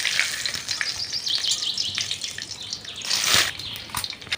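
Bay leaves and dry red chillies sizzle in hot mustard oil in a kadai, a steady close crackling hiss with a few louder spitting surges, heard alone without talk.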